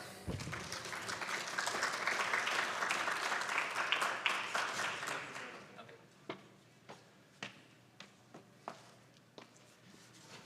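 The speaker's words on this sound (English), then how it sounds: "Please give him a round of applause." Conference audience applauding a speaker introduced for a talk on CEQA amendments and redevelopment, a dense wash of clapping that thins out into a few scattered, distinct claps before fading.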